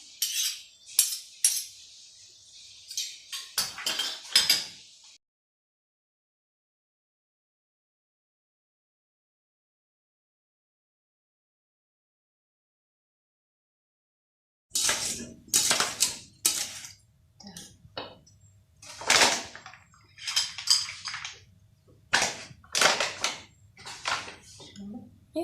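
A spoon mixes sour cream and mayonnaise in a bowl for a quick pan pizza. Bursts of clinking and scraping against the bowl come in short spurts, with a long silent gap between the two busy stretches.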